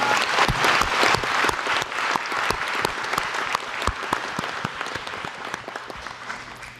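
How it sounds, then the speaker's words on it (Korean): A large crowd at a science and technology policy briefing applauds as lawmakers are introduced, with dense, sharp individual claps standing out in a sustained roar that gradually eases over seven seconds. "박수 한번 부탁드립니다"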